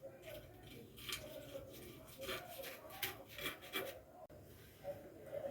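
A knife rasps through a crispy golden breaded beef cutlet in a home kitchen, a series of close, scratchy crunching strokes in a steady rhythm, with someone speaking faintly underneath.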